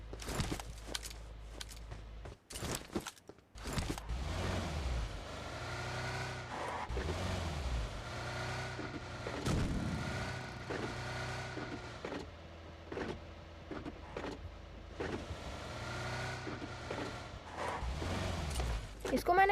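Car engine droning in a video game, steady motor hum with repeated revving swells and a few sharp knocks, heard under continuous game audio.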